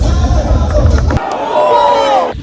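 Crowd of runners at the Indian Navy half marathon, a dense, loud wash of voices and chatter close by that drops suddenly to a thinner murmur of distant voices partway through.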